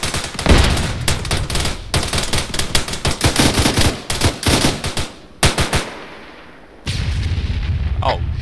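BMP-2 armored vehicle firing its gun in ARMA 3, heard as dense, loud bursts of rapid gunfire with sharp repeated cracks, a brief pause, then more heavy shooting and a sustained rumble at the end.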